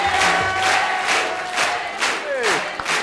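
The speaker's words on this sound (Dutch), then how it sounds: "Janine, kom even klappen." A loud studio audience cheers and whoops for Henny Huisman in repeated swells, with some shouting mixed in, close and sustained throughout.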